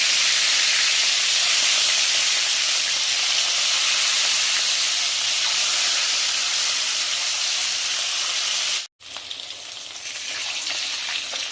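Fish sizzles loudly in hot oil in a wok, a dense, continuous frying hiss close up that drops out briefly near the end before resuming.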